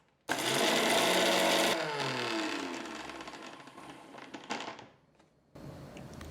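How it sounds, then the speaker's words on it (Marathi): A mixer grinder whirs loudly as it grinds soaked cashews and melon seeds without water, a dense motor roar in short bursts that drops away, then restarts briefly near the end. "चला आता मिक्सरमध्ये पाणी न घालता आधी फिरवून घेऊयात."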